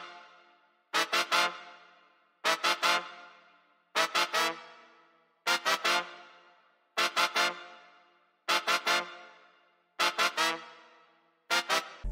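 A sampled trumpet horn pattern from a Kontakt horn bank's open preset: short punchy stabs in clusters of three, repeating about every one and a half seconds, each decaying quickly, clean with no voices.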